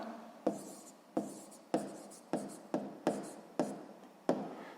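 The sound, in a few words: pen writing the answer on paper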